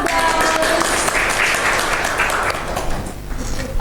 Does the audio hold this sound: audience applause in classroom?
yes